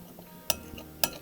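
Coconut oil and lemon zest get mixed in a bowl, with quiet scraping under two sharp clinks of a utensil against the bowl, spaced about half a second apart.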